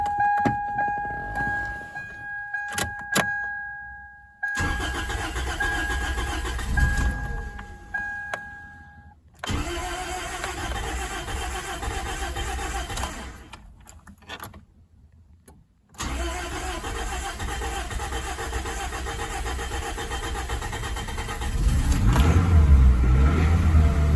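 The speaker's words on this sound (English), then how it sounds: "I guess we should actually crank it to make sure we got the timing and everything right" A Toyota 1ZZ-FE engine cranks with a whine and bursts of starter noise, stops, cranks again, then catches and runs with a loud, steady roar near the end.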